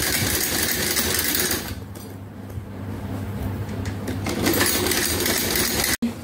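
A domestic sewing machine stitches storage bags with a steady close mechanical whir, briefly slowing midway before running on, and ends in a sharp click.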